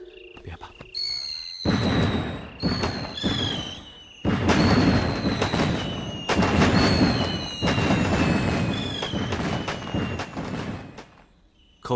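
Fireworks burst in the open on a winter night, a run of loud, crackling explosions with whistling rockets streaking upward between them, one blast after another close by.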